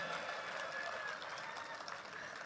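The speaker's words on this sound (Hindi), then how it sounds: "तालियां तो बजनी चाहिए भाई" Steady applause from a comedy poetry show audience, a dense wash of many hands clapping at an even level throughout, heard from a distance with no talking over it.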